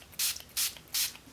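Three short, sharp spritzes from a nearly empty Milani Make It Last setting spray that sputters as it runs low. The bursts are close, evenly spaced and heard alone with no talking.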